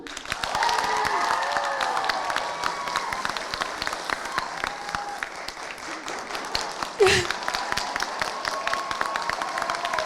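An audience at a televised masked-celebrity entertainment show claps steadily throughout, a dense patter of hands under ongoing talk, with a brief sharp knock partway through.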